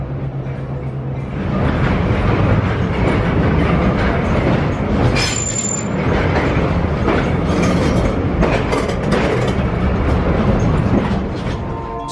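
An old train rolls along the tracks through the original 1907 tunnel near Ely, Nevada, a loud, close, continuous rumble with clattering wheels and a brief metallic squeal.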